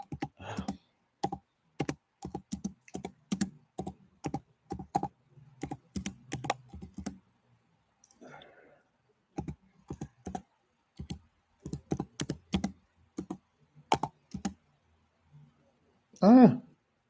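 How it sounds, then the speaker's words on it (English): Close computer keyboard typing comes in irregular bursts of distinct key clicks with brief pauses, ending in a louder thump. "was trying to type something"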